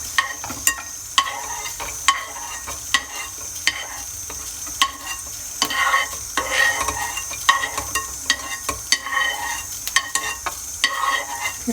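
Cashews roasting in a pan for Tamil sweet pongal, stirred with repeated scraping clicks and light knocks over a steady soft sizzle, close and moderately loud, with no talking.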